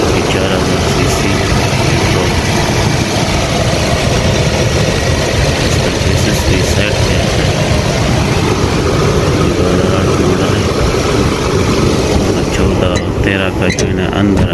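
A 4000 cc engine in a 2008 Toyota Hilux Vigo Champ 4x4 runs steadily at idle, a loud, continuous low drone heard up close for the whole stretch.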